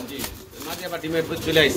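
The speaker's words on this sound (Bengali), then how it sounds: "এটা হচ্ছে পলিশ লাইন কবুতর না ভাই?" Polish line pigeons coo close by in soft, throaty bursts, mixed with people talking nearby.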